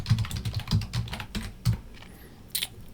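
Rapid clicking of computer keyboard keys, close up in a quiet room, a quick run of keystrokes that slows and then ends with a couple of isolated taps, with no one speaking.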